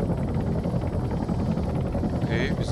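Helicopter from the Arma 3 military video game, a steady rotor and engine drone filling the clip at close range under game noise, with a brief higher whine near the end.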